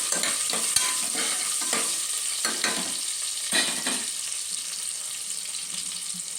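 Onions sprinkled with salt fry in a pan for vangi bath, a constant hissing sizzle broken by several scraping stirs of a spoon, close and fairly quiet with no talking.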